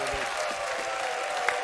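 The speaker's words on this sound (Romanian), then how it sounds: "Să aplaudă!" Steady applause from an audience at a comedy awards gala, a dense continuous wash of clapping throughout with no break.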